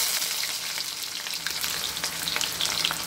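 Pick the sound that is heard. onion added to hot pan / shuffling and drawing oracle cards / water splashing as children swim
onion added to hot pan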